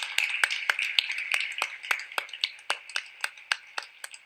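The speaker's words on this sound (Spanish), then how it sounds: "pido un aplauso para José" Applause for José comes as a faint, steady run of distinct, evenly spaced claps, sounding like a few hands clapping in a quiet room, with no talking.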